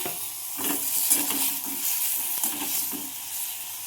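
Flat beans tipped into hot mustard-oil in a pan sizzle steadily, with a broad hiss and soft stirring scrapes and clatters repeating throughout, close and moderately loud.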